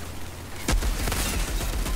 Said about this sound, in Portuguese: do nada o cara começa a tomar um zilhão de tiro